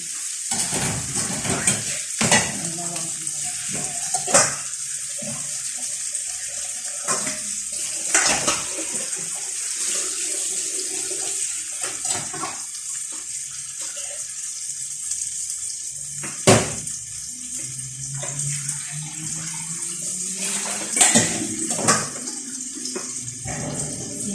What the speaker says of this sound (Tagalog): Banlawan ko muna kasi nilagyan ko siya ng asin.